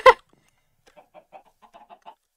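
Minecraft chickens in a pen give a run of short, soft clucks spaced irregularly over about two seconds, following one loud brief burst at the start.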